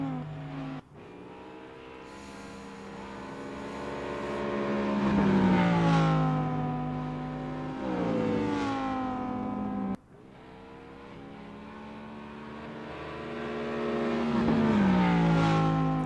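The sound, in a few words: race cars at Road Atlanta racing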